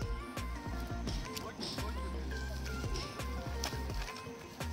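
A camel walks through a village track beside a parked tractor, its footfalls landing in a regular plodding rhythm over a low steady engine rumble.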